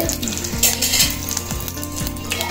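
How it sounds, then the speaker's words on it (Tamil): Tempering spices crackle and sizzle in hot oil for puliyanam, a loud close frying hiss with quick popping bursts, while a low motor-like drone pulses rhythmically underneath. "நல்லா பொரிஞ்சு வருது."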